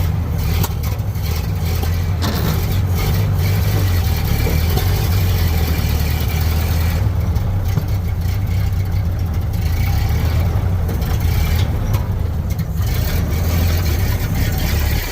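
A Model A Ford pickup engine runs steadily in the cold, slightly flooded from too much fuel, a continuous low rumbling idle that stays loud and close throughout with no talking.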